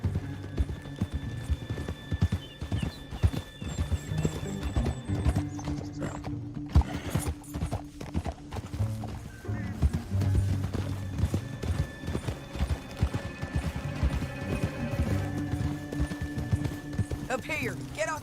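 Horses gallop in Red Dead Redemption 2, with rapid clip-clopping hooves running steadily throughout, an occasional whinny, and game music and voices talking over them.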